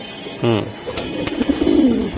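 Large pigeons at a pigeon market give a single low cooing call up close, followed by soft rustling and shuffling sounds, with no talk.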